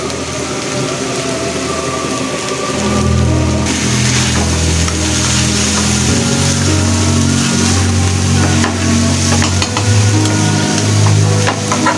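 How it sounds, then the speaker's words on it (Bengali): Beef and rice being stirred and fried together in a pot, a loud continuous sizzle with scraping stir strokes that thickens partway through, close up and without talk. "এখন সব কিছু একসঙ্গে মিশিয়ে নিব নাড়াচাড়া করে।"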